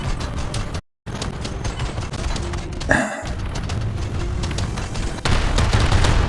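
Tank gunfire in the War Thunder video game: a single sharp blast stands out mid-clip over a steady wash of engine and battle noise, with the din growing louder near the end.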